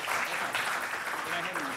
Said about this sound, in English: If we could just get a quick round of applause, please, for our moderator, John Carney